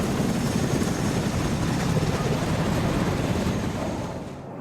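Military aircraft overhead in Afghanistan, including Apache attack helicopters, heard as a steady broadband rotor and engine roar that holds and then begins to fade away toward the end, distant and continuous.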